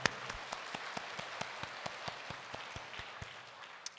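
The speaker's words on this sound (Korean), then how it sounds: "하나님께 박수로 영광 올려드리겠습니다" A congregation clapping together during a Sunday church service, broad rhythmic applause with regular sharp beats, moderately distant and sustained throughout.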